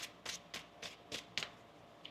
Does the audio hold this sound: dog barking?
no